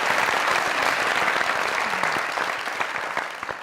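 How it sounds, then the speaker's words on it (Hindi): Loud, steady applause from a television comedy show's studio audience, sustained clapping that fills the room and tapers slightly toward the end. "तालियां जोरदार।"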